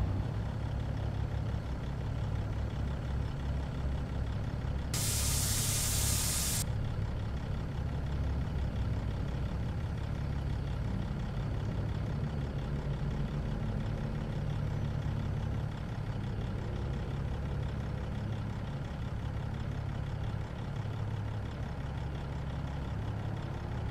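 A Kenworth W900 with a Cat engine idles in American Truck Simulator, giving a steady, even low rumble throughout with a brief burst of hissing air near the start.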